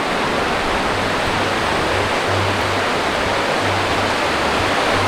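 Continuous rushing water of a flowing stream at Serindere, a dense steady hiss with a faint low hum pulsing underneath.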